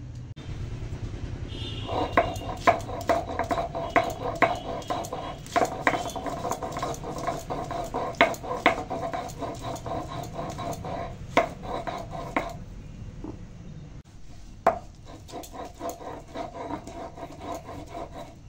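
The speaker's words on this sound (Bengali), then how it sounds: "এখন আদা রসুন নিয়েছি, আদা রসুনটা বেটে নেব।" Ginger and garlic being ground on a traditional grinding stone, a steady run of scraping, knocking strokes close by, dense for about twelve seconds, then thinning to scattered taps near the end with no one talking.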